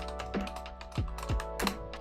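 Computer keyboard typing, a handful of distinct, fairly close key clicks and clacks in an irregular rhythm over a quiet background.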